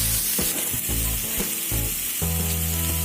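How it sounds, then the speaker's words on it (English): Onions sauteing in butter for an egg masala toast sizzle steadily and loudly in a pan, with several stirring scrapes breaking the even frying hiss over about three seconds. "So now I'll add onions to the butter. And saute this onion."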